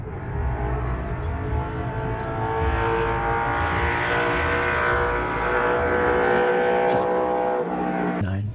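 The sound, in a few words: 1969 Bud Moore Boss Mustang race car engine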